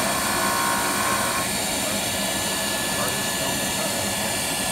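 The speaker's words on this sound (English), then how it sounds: "So I'm gonna use a fine wheel to sand it down." Jooltool wheel grinding and sanding a flaky cabochon stone, a steady, loud broadband whir with hissing abrasion running continuously throughout.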